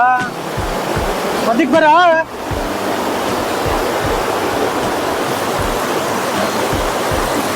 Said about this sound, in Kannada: ನೋಡಿ ಎಷ್ಟು ಫೋರ್ಸ್ ಆಗುತ್ತೆ ನೀರು.